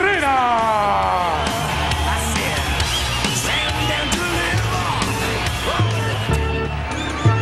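A lucha libre arena crowd roars, yells and whoops continuously for Juventud Guerrera's entrance at a CMLL event, with a loud announcer talking over the noise throughout.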